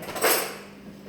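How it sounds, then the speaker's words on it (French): A metal spoon clinks briefly as it is picked up from a kitchen counter, a single sharp contact followed by a short fading ring. "Hop, je prends une nouvelle cuillère."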